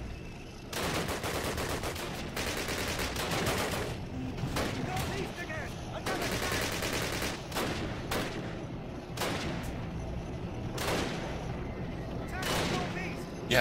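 Heavy gunfire bursts and booming shots from an enemy tank in Call of Duty, loud sustained volleys with short pauses between them, while someone talks over the battle.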